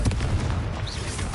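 A Confringo fire spell in Hogwarts Legacy erupts in a dense, rumbling explosive blast, loud and sustained with crackling bursts packed close together across the whole moment.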